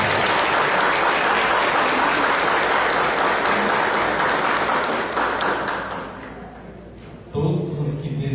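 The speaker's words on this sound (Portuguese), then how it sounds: "uma salva de palmas" Sustained audience applause at a formal ceremonial session, loud and steady for several seconds before tapering off, followed by a brief burst of renewed clapping and voices.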